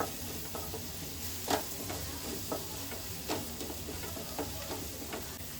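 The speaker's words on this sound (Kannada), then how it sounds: "ಒಂದರಿಂದ ಎರಡು ನಿಮಿಷ ಹೀಗೆ ಫ್ರೈ ಮಾಡಿಬಿಡೋಣ" Chopped onion with ginger-garlic paste frying in a pan for chicken gravy, a steady close sizzle with occasional scrapes and taps of a stirring spoon against the pan.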